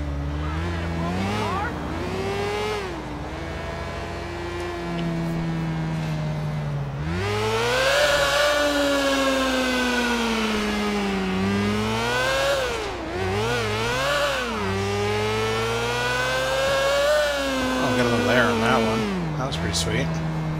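A motorbike engine in Grand Theft Auto IV revs again and again, its pitch climbing and dropping in loud, continuous swells with a steady rumble underneath.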